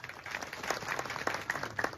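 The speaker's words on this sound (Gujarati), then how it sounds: "એ પરિવારને ખૂબ ખૂબ તાળીઓથી વધાવીએ" An audience at a Santvani devotional gathering in Chandisar applauds to welcome a family, with soft, scattered clapping that sounds fairly distant and continues steadily.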